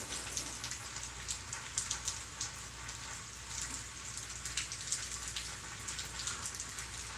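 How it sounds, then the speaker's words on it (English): Steady rain from weak storms patters down on a hard surface, a constant hiss with scattered sharper drips, moderately soft and close by. "We just got some weak storms going through"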